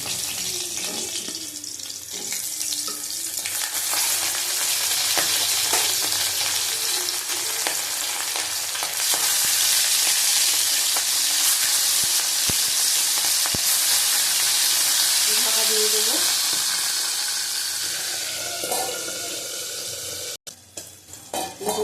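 Tengra fish sizzles and crackles in hot oil, a continuous frying hiss that swells in the middle and fades near the end.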